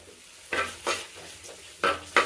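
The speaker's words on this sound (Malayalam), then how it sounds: "വെളുത്തുള്ളിയും കൂടെ എനിക്കൊന്ന് വേവട്ടെ" Garlic frying in a pan for crab curry, quiet oily sizzle broken by four sharp bursts as a spoon stirs and scrapes the pan, close and uneven in rhythm.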